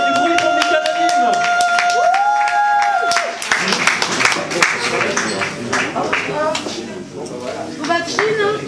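An audience claps and cheers for the performer Mick Anonyme, the clapping building after a few seconds of high whistling tones, with voices calling out and speaking over the applause.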